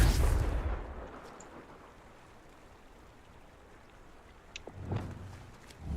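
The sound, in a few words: Confringo spell blast, Hogwarts Legacy video game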